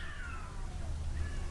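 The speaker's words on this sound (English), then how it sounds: "There were 2 cats outside in the rain, and they are freaking out, man." Two cats outside in the rain, meowing and caterwauling in a drawn-out, wavering yowl over a low rumbling background, fairly close and alone without talk.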